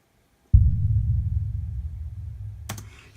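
A booming kick and tom sample bounced from MIDI and shaped with EQ, one deep sustained low thud that swells and slowly decays over about two seconds, with a brighter hit cutting in near the end.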